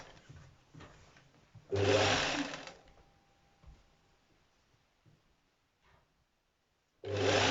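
A sewing machine stitches the lining of palazzo pants in one short, loud whirring run, with a brief restart at the end and quiet handling noises in between.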